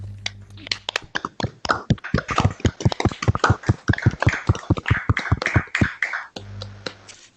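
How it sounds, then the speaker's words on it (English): Online audience at a quantum physics talk on qubit reset claps for the speaker, a run of distinct, fairly close hand claps that starts sparse, speeds into a steady patter and stops abruptly, with no talking over it. "give a big clap of hands for to Daniel"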